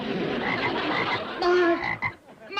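Frog croaking in a classic western TV comedy scene, a few rough, throaty croaks close and fairly loud over about two seconds, with no one talking.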